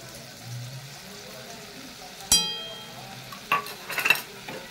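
A spoon stirs a yogurt and poppy seed mixture in a pan, giving a faint sizzle with a sharp metallic clink and a few light scraping knocks against the pan.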